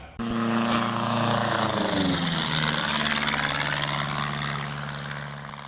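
A canard aircraft's engine powers up for its pre-flight run-up, a loud, close, steady propeller drone whose pitch shifts then settles, heard alone throughout.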